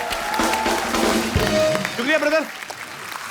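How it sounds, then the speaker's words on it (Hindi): Studio audience applause on a Hindi comedy talk show, steady clapping running through the clip beneath a man's brief spoken thanks, with a sustained tone and shouts near the end. "टाइमिंग के लिए जोरदार तालियां"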